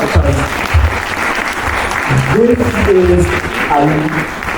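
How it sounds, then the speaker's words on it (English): An audience at a humanities and education career expo panel breaks into a steady, close round of applause that fills the room for several seconds, with a voice briefly rising above the clapping. "Can we give her a round of applause?"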